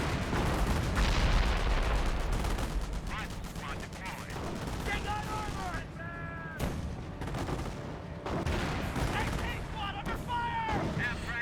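MP40 submachine gun fire in the World War II strategy game Company of Heroes, dense overlapping bursts and distant explosions rattling continuously, with brief voice callouts in between.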